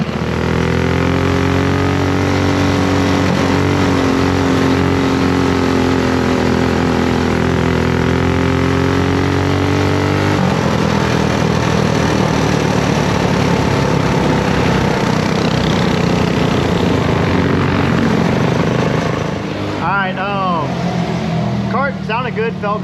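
A race car engine roars continuously at close range during test laps at Speedway Park on a Friday night, its tone steady and droning, shifting pitch midway, then rising and falling near the end.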